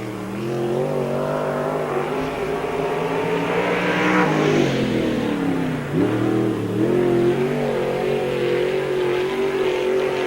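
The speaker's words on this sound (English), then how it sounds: "And our next qualifier out in the car number 19" Race car qualifying at Spoon River Speedway during the 1997 Summer Nationals, its engine revving loud and steady with rising and falling pitch as it laps, a dip and surge midway, no talking.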